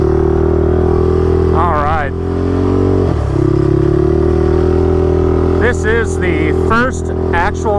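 A garage-built race motorcycle engine idles steadily and loud during warm-up for break-in, with a steady low drone under someone talking throughout.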